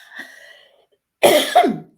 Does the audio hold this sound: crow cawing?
no